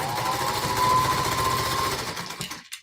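A sewing machine stitches a fiber art mug rug, running in a fast steady mechanical whir for over two seconds before stopping abruptly, close and alone.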